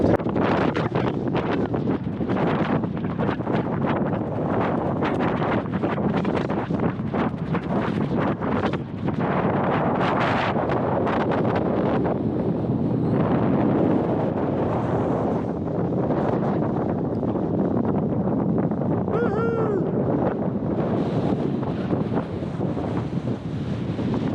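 Strong wind on an exposed hillside at a wild camp, roaring and buffeting the microphone continuously for the whole stretch, loud and unbroken.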